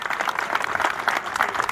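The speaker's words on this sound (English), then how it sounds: "So big round of applause for Joe," Folks applauding at a Pride flag raising ceremony in Vallejo, California: a short burst of dense, steady clapping from a gathered crowd, moderately loud and continuous.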